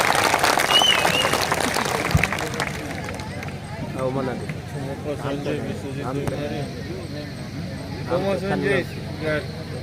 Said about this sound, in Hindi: एक जोरदार तालियों के साथ उनका स्वागत।